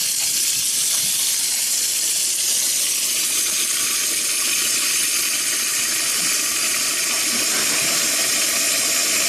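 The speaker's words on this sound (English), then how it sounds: "A lot of water going at once" Steady rushing water pours continuously down a sink drain with a garbage disposal, a loud broadband hiss with gurgling underneath, like a heavy flow draining, with no voices.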